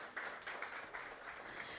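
An audience at a women's PR summit applauds a speaker, a faint, steady wash of many hands clapping together that goes on without a break.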